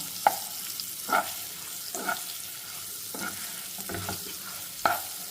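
Stuffed bitter gourd curry is stirred in a frying pan, with about six distinct spoon scrapes and clanks at a slow, irregular rhythm over a soft, steady sizzle, close and moderately quiet.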